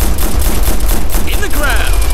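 Dense rifle and machine-gun fire in the military shooter Operation Flashpoint Red River, a loud, continuous crackle of overlapping shots with a few whizzing passes near the end, under a squad member's voice.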